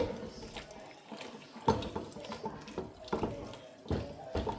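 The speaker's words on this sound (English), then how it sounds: "So we'll put a little bit of water in it so that we can make it a little lighter." Water poured into a bowl of starch dough being made to go with banga soup, giving a close, intermittent splashing and trickling in several short bursts with no talking.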